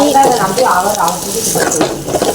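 Two cracked eggs sizzle and fry in a hot pan for a Tamil-style egg stir-fry, a steady crackling hiss with stirring scrapes throughout, close and fairly loud.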